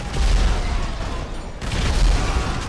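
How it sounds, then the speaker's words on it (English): In Grand Theft Auto Online, two heavy explosion-like booms arrive about a second apart, each a loud low rumble that swells and decays amid continuous game noise. "There we go, and an invisible explosion to start."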